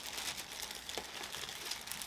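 A plastic bag wrapping a handbag crinkles softly and continuously during an unboxing, quiet and close, with no talking.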